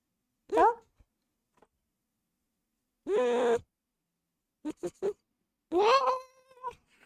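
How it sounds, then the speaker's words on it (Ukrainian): A cat meows several times up close, drawn-out calls separated by silent pauses, with a person's voice heard briefly between them. "мій котик. О! Скажи мяу."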